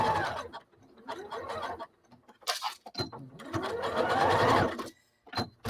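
Domestic sewing machine running a zigzag stitch over a regular seam to stop fabric edges fraying, whirring in bursts of a few seconds with short pauses between runs, close and fairly loud.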